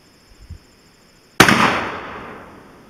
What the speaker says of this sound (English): I tried two shots because I couldn't see where the first one hit.